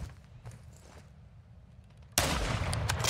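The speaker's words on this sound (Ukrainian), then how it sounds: "вони один в одного стріляють" Gunfire in the video game Call of Duty Modern Warfare II. After a quiet opening with faint scattered sounds, a loud, sustained burst of rapid shots suddenly erupts and continues to the end.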